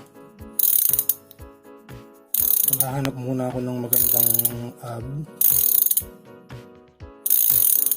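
Rapid buzzing ratchet clicks of a SunRace 8-speed thread-type 13-34T freewheel cog, coming in loud bursts as the wheel spins, with someone speaking briefly in the middle.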